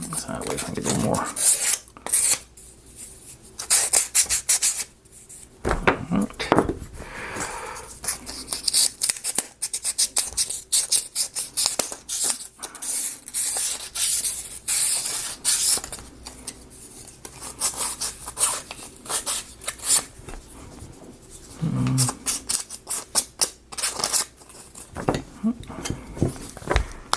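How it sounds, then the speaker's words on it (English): Repeated rasping strokes of sandpaper rubbing a curved piece of wood, in irregular bursts with brief pauses, close up, occasionally interrupted by a voice. "I'm going to use a real piece of sandpaper on."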